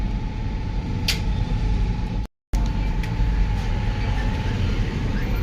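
A metro train in Bengaluru gives off a steady low rumble and mechanical whine, heard from nearby as a continuous hum with a faint tonal drone and a brief cut to silence midway.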